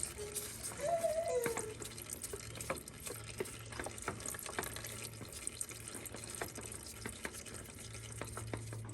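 Engine oil trickles steadily from a John Deere Z445 riding mower into a drain pan, a faint continuous watery pour with small drips, steady throughout with no talking.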